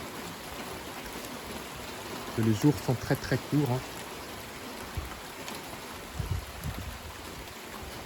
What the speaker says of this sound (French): Et là, ça pleut.